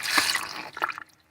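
A portable toilet in a van flushes blue water, a short loud watery gush that splashes, dies away, then surges briefly again before trailing off.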